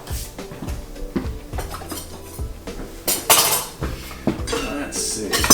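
Clinks and scrapes of a knife against a ramekin and other dishes in a kitchen, a string of sharp metallic taps and rattles at varying loudness, close by, with a voice speaking faintly underneath.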